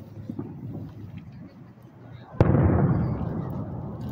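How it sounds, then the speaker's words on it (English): Fourth of July fireworks, with one sharp close boom followed by a rumbling echoing tail, after a quieter murmur of outdoor background noise. "Alright, here's the fireworks."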